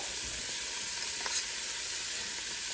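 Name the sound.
garlic sizzling in pan being stirred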